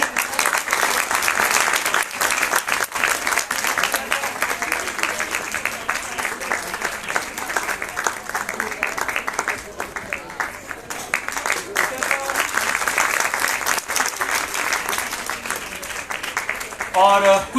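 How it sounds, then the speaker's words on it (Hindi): Sustained audience applause for students at a science festival in Uttarakhand: dense crowd clapping that continues throughout at a steady level, with a brief voice near the end. "तालियां बजती रहे"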